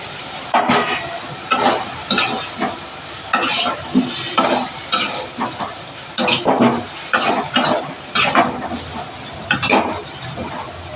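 Cumin, coriander and Kashmiri chili powder sautéing in a pan, with loud close sizzling and repeated rhythmic scraping strokes of a spoon stirring throughout, no talking.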